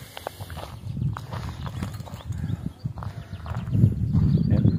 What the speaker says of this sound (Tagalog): Ayan, may kabayo rin dito.